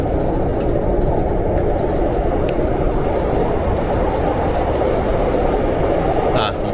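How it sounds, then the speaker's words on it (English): A steady, loud rumble and rattle of a moving local train carriage in South Korea fills the clip without pause, heard from inside, with voices faintly mixed in. "Currently on a local train"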